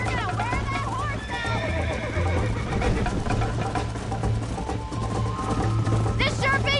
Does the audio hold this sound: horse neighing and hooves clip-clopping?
yes